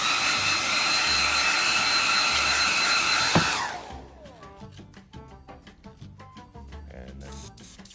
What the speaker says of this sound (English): I'm just going to hit this with a hairdryer